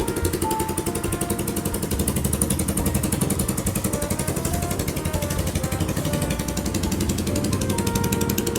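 A Stallion Centaur 150 old-school motorcycle with a loud exhaust, its engine running steadily nearby with a rapid, even rattling putter, alone and without talk.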